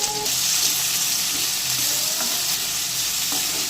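Tomatoes and ginger garlic paste stirred in a hot pan for a cauliflower and green pea kurma, giving a steady loud sizzle with occasional scraping clicks of the spoon, no voices.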